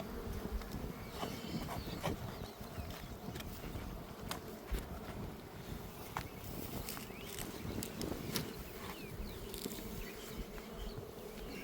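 Honey bees swarm around an open hive during a summer hive check, a dense, steady buzzing of many insects close by that holds for the whole stretch with no talk over it.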